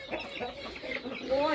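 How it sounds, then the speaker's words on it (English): Chickens cluck in a busy yard in rural Thailand, a close cluster of short overlapping clucks and squawks with a louder burst at the end, while people talk quietly alongside. "There are a lot of chickens here."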